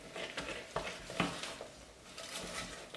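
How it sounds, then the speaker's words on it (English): Coconut toffee mixture being stirred in a pan over medium heat, with soft scraping strokes and a few sharper spoon knocks against the pan amid a faint background sizzle. "I'm going to give that a good stir."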